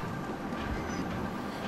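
A rail cart rolls along a track in Zelda: Tears of the Kingdom, a steady low rumbling drone with faint clattering throughout, with no voices over it.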